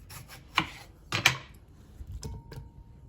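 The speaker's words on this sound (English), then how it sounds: "cut the top off and then just cut them in fours" A knife cuts tomatoes into quarters after their tops are sliced off. Several sharp, separate chops and slicing taps sound close on a cutting board, with short pauses between them and no talking.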